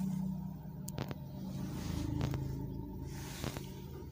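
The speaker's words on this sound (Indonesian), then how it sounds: "Kalau kita masih manaskan mobil," A car engine idles while warming up before driving off in park, a low steady rumble with a few brief sharper bumps over it.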